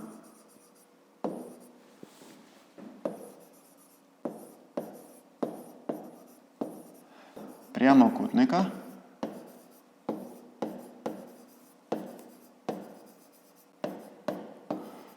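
Pen on paper writing out a 5th-grade math solution, repeated short scratchy strokes in irregular bursts, close and fairly quiet, with a brief louder rustle midway. A voice speaks in between.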